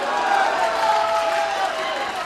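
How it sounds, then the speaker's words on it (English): A boxing crowd in an Istanbul arena makes a steady, fairly loud roar of cheering and murmuring throughout a title bout. "Crowd liking this action here."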